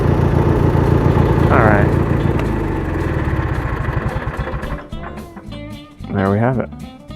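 A Kohler Magnum 18.5HP twin-cylinder engine on a Craftsman garden tractor idles with a steady low chugging, then sputters and dies away, leaving a few irregular puffs; someone speaks briefly near the end.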